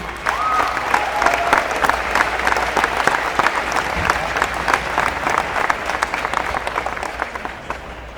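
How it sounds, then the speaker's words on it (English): Students applaud at a Memorial Day pep rally, loud dense clapping with sharp individual claps standing out, sustained evenly for about eight seconds from a large crowd close by. "so let's give them a round of applause, please"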